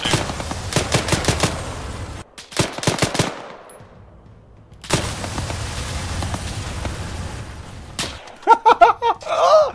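Rapid automatic gunfire in the Arma 3 military game crackles in dense bursts, pauses in a short lull, then resumes as sustained firing that ends in a final cluster of sharp, closer shots.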